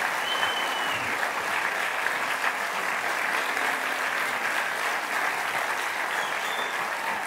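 Continuous crowd applause fills a health-debate club conference hall as the audience welcomes the speaker for a talk on sleep and its disorders, with dense, even clapping from many people at steady volume.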